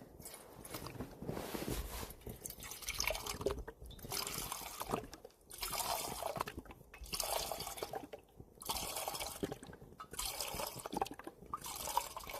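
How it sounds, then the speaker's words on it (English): Water is poured into a cooking pot on an alcohol burner outdoors on a snowy -7°C hike. It comes in several separate bursts of gurgling, splashing liquid with short pauses between them, quiet and close. "put some water in here."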